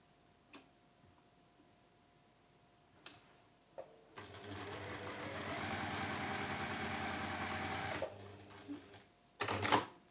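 A sewing machine sews quilt strips with a quarter-inch seam in one steady run of about four seconds, fairly quiet and close, with scattered clicks and handling noises before and after.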